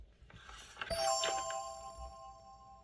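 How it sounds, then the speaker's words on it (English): A house doorbell rings once with a bright ding-dong chime, the tones sustaining and slowly fading in a quiet indoor space. "I rang the bell."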